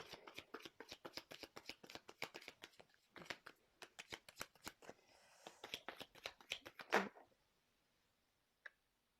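Oracle cards being shuffled in repeated quick riffling bursts, close and fairly loud, ending with a louder flurry as cards spill, then a single soft tap after a pause.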